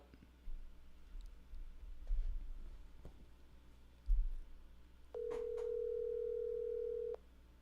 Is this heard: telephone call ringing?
yes